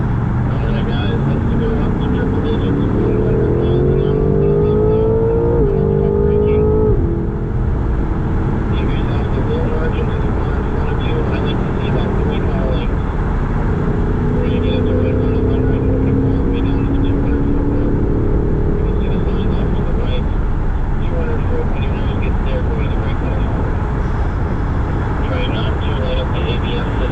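A BMW M car accelerates down a race track straightaway toward 100 mph, its loud engine droning continuously with rising pitch sweeps as it climbs through the gears, with heavy wind and road roar throughout.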